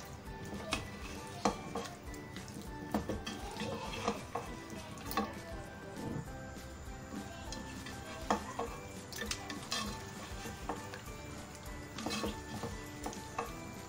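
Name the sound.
stirring chicken korma in a pot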